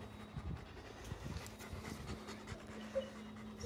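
A dog pants rapidly and rhythmically at close range, quiet and steady, with no voices over it.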